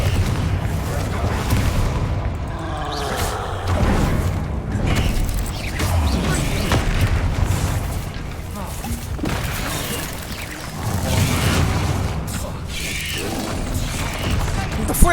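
Bombarda and Confringo spell blasts in Hogwarts Legacy rumble and crash almost continuously in a busy fight, with loud booms and mechanical clatter layered over one another.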